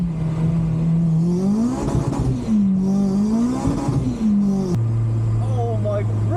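A BMW M240i engine accelerates hard from inside the car, rising and falling in loud swells through gear changes before settling into a steady drone, with voices talking over it.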